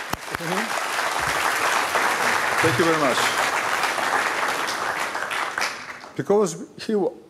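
An audience claps at an Arianespace launch ceremony for flight VA236, with steady applause throughout and a voice speaking over it near the start and again toward the end.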